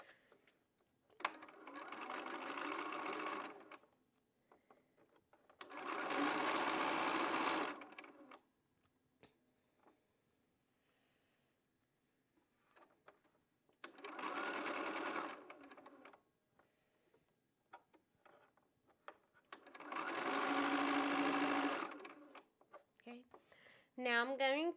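A sewing machine stitches quilt center pieces in four separate bursts of fast, even mechanical whirring, each a few seconds long, with quiet pauses and faint handling sounds between them.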